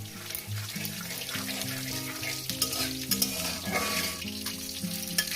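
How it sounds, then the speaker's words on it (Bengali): Whole spices tempering in hot oil for a jackfruit curry, a loud close crackling sizzle with stirring, continuous throughout, no voices. "দিয়ে দেবো গোটা চিড়ে ফোড়ন দেবো ফোড়নটা কয়েক সেকেন্ড ভেজে নেব"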